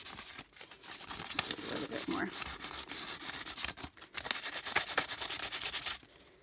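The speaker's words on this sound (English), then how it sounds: "you could just get a thicker type sandpaper, a heavier grit, and that should do the job" Sandpaper rubbed by hand over a painted glass jar to strip thick pink paint, a steady run of rough, scratchy strokes that pauses briefly twice before stopping near the end.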